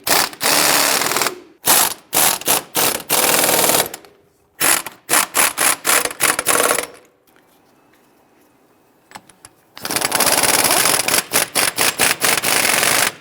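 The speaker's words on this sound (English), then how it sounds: "I'm going to go ahead and tighten these down and then come back and torque them." A ratchet tightens control arm bolts on a 2011-2019 Ford Explorer during rear CV axle replacement: loud, close bursts of rapid clicking in several runs separated by short pauses and one longer quiet gap.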